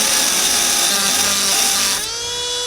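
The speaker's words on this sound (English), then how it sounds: "we're going to take the Dremel and we're going to cut a flat spot in it" A Dremel with a cutoff wheel cuts a flat spot on a part of an RC car, a loud continuous high-pitched grinding whine that runs close and steady, then drops in tone near the end.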